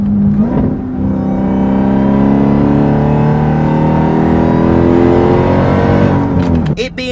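A Dodge Durango Hellcat with about 700 horsepower accelerates hard, its supercharged engine a loud, close, sustained roar that climbs steadily in pitch for several seconds before easing off.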